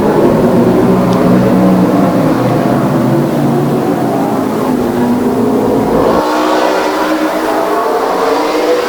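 Race cars in a Friday night short-track race roar continuously around the circuit, a loud, dense engine drone that shifts in pitch as the pack passes, with no talk over it.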